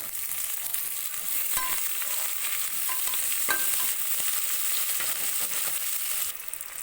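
Coriander leaves frying in a pan of oil while making ghee rice: a steady, bright sizzle runs throughout with a few soft stirring clicks, close and fairly loud, with no talking.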